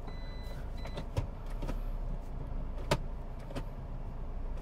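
A Toyota Corolla Altis 1.8V sedan with automatic transmission pulls away, its engine a low steady hum with a few sharp clicks and knocks from the cabin, heard alone without talk.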